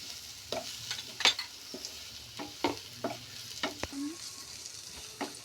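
Spices sizzle in a hot pan while a spoon stirs and scrapes through them in short irregular strokes for aloo paratha filling, with a soft steady fry underneath and no talking.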